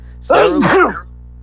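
A single close, loud sneeze bursts out abruptly and fades quickly, with quiet hum before and after.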